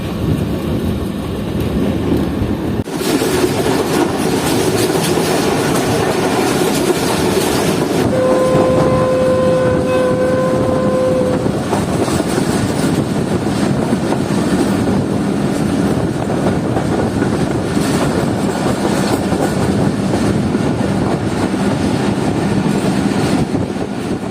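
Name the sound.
Fareed Express passenger train running at speed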